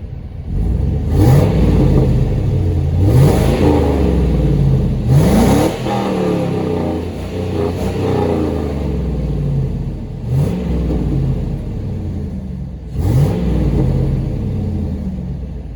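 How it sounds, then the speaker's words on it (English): A 2000 GMC Yukon XL 2500 exhaust revving, a deep loud rumbling idle broken by five rising revs that swell and fall back, with no talk. "I'm going to give you guys an exhaust clip that you wanted right now."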